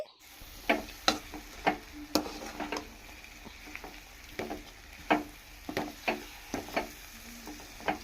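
A spoon scrapes and taps against a pan while bitter gourd curry is stirred, giving a steady series of sharp clicks about once a second over a faint, quiet sizzle.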